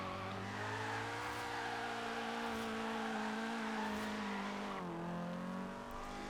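A Rocket Bunny Nissan 240SX drift car in a video game, built with KA or VR38 power, drones at steady low revs with a sluggish, strained tone, dipping briefly near the end before holding on.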